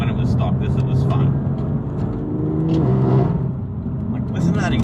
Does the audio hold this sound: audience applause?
no